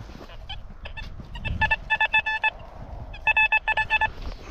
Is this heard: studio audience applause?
no